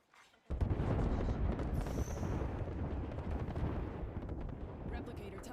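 Artillery strike explosions in the video game Apex Legends erupt suddenly after a brief quiet moment, then continue as a dense, loud, sustained roar of blasts and rumbling.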